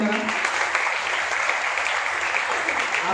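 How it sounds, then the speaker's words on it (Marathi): Steady, dense applause from a classroom audience welcoming a teacher at a coaching-class SSC results event, a continuous even patter holding at a moderate level throughout. "त्यासाठी त्यांचं एकदा जोरदार टाळ्या वाजवून स्वागत करा।"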